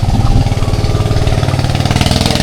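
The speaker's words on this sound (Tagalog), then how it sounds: "Meron po mga palaot na bangka." A steady, loud motorboat engine drone with a low throbbing hum, running continuously without pause.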